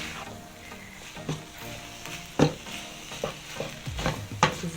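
Noodles and vegetables are stir-fried in a pan, with a soft steady sizzle under repeated scraping and tossing strokes. The clatter from the utensils comes in irregular bursts close to the microphone.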